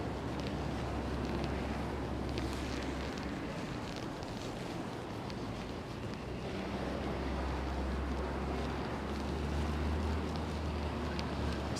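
Strong wind blows outdoors during a downtown Toronto evening snowfall, roaring constantly with heavy gusty buffeting, loud and continuous, with no voices.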